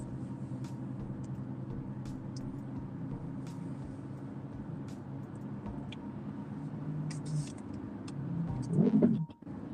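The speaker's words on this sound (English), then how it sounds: "My car sounds like a freaking jet engine." A car with worn wheel bearings driving at night, a steady low droning road hum inside the cabin that swells briefly near the end amid small clicks and rattles, with no talk.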